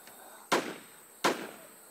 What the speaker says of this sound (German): Von wo hat er mich denn beschossen?